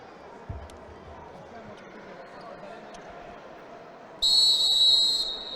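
A timekeeper's whistle at a basketball game shrills loudly for about a second and a half over the steady murmur of an indoor arena crowd, with a single ball bounce heard earlier.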